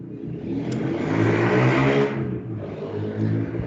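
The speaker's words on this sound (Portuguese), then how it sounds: "Há um abençoado aqui acelerando a moto." A motorcycle engine revs nearby, its whirring drone rising and holding for about two seconds, dropping briefly, then swelling again.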